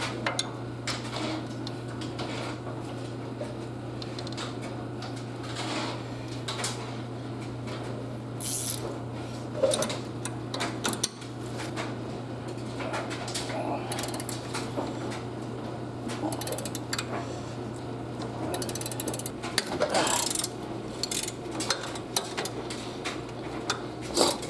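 A ratchet loosens the end link nuts during a CV axle replacement, giving off faint, scattered clicks and metallic clinks over a low, steady background hum.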